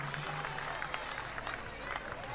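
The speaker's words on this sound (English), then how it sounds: "As they clap it up in the dugout." A softball team claps it up in the dugout during a college championship game, a faint, distant patter of applause and crowd noise under a commentator's voice.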